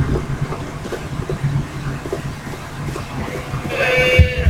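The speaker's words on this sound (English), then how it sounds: "No, goats. Goats." Goats bleat in the video game Far Cry 3, several short wavering calls rising over a busy outdoor game ambience, with one clear, loud bleat near the end.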